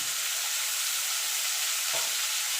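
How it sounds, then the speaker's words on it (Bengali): Bitter gourd pieces fry in hot oil for a dal shukto, a loud continuous hissing sizzle with a faint stir near the end and no talking. "এবার উচ্ছাগুলোকে আমি ভেজে নেবো"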